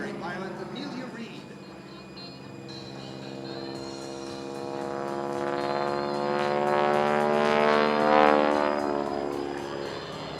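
A Boeing-built Stearman Model 70 biplane flies at an Edwards AFB airshow, its propeller engine droning with a buzzing, harmonic hum that swells louder as it passes nearby, under a voice talking.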